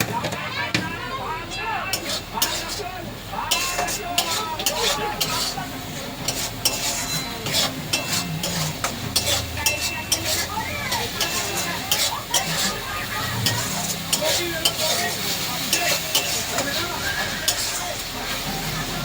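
Ginger and garlic fry in a pan for a home-style pointed gourd and potato curry. A continuous close sizzle runs under frequent scraping stirs and clinks of a metal spoon against the pan.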